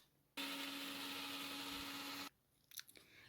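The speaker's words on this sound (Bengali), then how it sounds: "তাই আমি আদা রসুনটা বেটে নিচ্ছি।" Ginger and garlic being ground into paste for a cabbage Manchurian in a home kitchen, heard as a loud, steady, motorised whir that runs for about two seconds and then stops, followed by a few small clinks.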